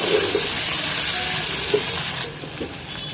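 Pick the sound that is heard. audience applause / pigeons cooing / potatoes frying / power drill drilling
potatoes frying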